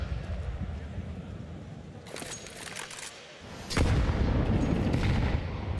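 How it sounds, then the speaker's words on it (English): Grenade explosions in a Counter-Strike 2 match at the PGL Major Copenhagen 2024 playoffs: one sharp blast, then a heavier, longer rumbling boom that fills the rest of the clip. "Significant damage from their nades."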